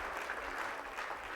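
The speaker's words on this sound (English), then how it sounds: "You can clap for me once." An audience at a business roadshow event in Dubai bursts into brief, dense applause, a steady wash of many hands clapping together for just over a second.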